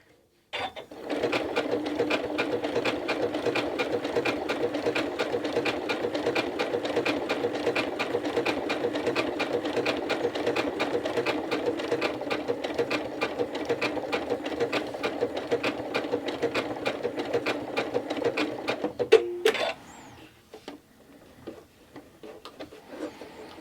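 A sewing machine stitches an appliqué flower stem in a steady, fast mechanical run that lasts nearly twenty seconds, then stops with a brief clunk and the faint handling sounds that follow.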